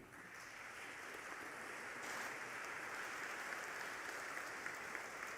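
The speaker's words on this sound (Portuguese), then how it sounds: "Podemos aplaudir, gente." An audience at a civic prayer ceremony in a church applauds, with steady, faint clapping that stays even throughout and no talking.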